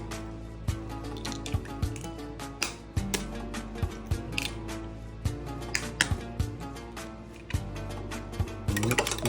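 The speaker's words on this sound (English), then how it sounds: "in a bowl, we're going to crack open 3 medium eggs" Three medium eggs cracked one after another into a bowl, sharp shell taps and wet drips over a steady musical background, no talking.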